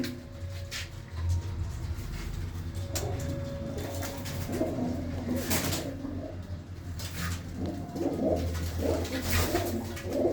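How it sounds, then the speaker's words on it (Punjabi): Big old red Cheena pigeons coo softly among loft clutter, with murmuring calls rising and falling through a steady low hum and occasional bursts of rustling. "ਆ ਲਾਲ ਚੀਨਾ ਵੱਡਾ ਕਬੂਤਰ"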